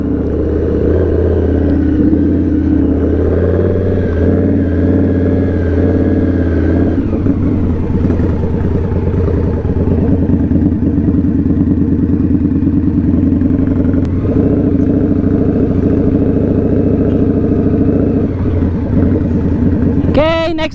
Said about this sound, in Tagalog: Malakas lang talaga yung exhaust niya.